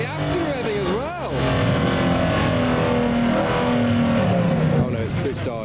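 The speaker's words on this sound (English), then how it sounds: "Whoa, the Aston revving as well." An Aston Martin sports car engine revs hard with rising and falling pitch, loud and nearby, at a Japanese car show in the UK, while people talk and exclaim over it.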